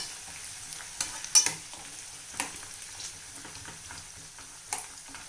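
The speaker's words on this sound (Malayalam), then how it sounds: "കടുക് പൊട്ടിയപ്പോൾ നമ്മൾ വെളുത്തുള്ളി ഇടാം" Garlic frying in oil with popped mustard seeds for a homestyle gooseberry (nellikka) pickle, a steady close sizzle broken by several sharp stirring scrapes and crackles, with no voices.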